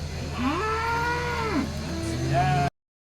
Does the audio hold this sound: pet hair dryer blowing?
no